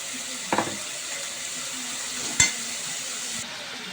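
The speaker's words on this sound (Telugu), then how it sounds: "ఇప్పుడు ఇంకా ఆనియన్స్ మొత్తం వేసేద్దాం" Chopped onions frying in a pan with ginger and garlic for a fish curry, making a steady, low sizzling hiss throughout with two brief knocks of a utensil against the pan, close and fairly quiet.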